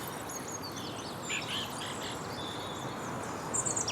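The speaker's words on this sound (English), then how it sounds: "And one of the earliest and the smallest is the wren. This one's singing away in here now." A wren sings at dawn in winter parkland, a faint high warbling trill that comes in short bursts over a quiet background hiss.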